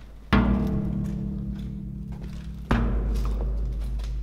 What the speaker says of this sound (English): I'm gonna do another bass bomb